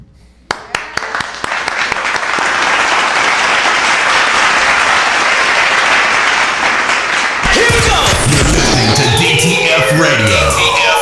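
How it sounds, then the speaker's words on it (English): A studio audience on a radio show breaks into loud, sustained applause and cheering for the host and team, with raised voices mixed in and a whooshing music sting sweeping in near the end. "Let's clap it up for Ray DeJean and the team."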